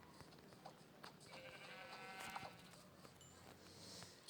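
A sheep bleats once in Minecraft, a short wavering game bleat heard among faint in-game background sounds, with no talking.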